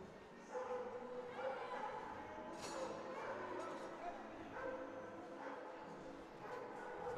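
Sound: dog barking excitedly in ice hockey arena stands

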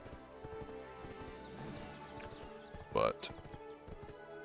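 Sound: horse hooves clip-clopping in video game Black Desert Online

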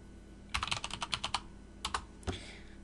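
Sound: typing a password on a computer keyboard

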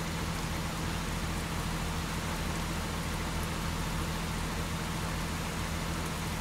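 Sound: rain in American Truck Simulator video game

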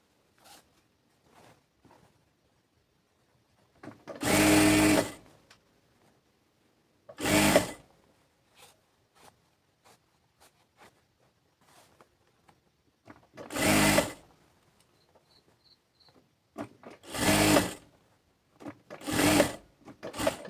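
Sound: sewing machine stitching a salwar

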